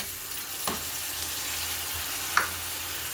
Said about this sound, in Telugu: ఇప్పుడు పెసరపప్పు వేసేద్దాం.